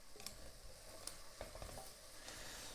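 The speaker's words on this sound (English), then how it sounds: "And I'll give that a little stir." Seaweed soup is stirred in a pan, a soft scraping swirl with faint sizzle and light clinks, close and quiet, with no talking.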